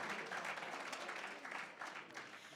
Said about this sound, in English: Can we just give all of them another round of applause?